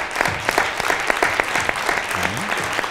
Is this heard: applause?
yes